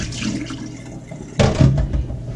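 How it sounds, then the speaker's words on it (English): A pot being rinsed under running tap water in a home kitchen while cooking collard greens, a steady faucet stream that thickens into louder splashing and sloshing partway through. "I'll rinse that pot out."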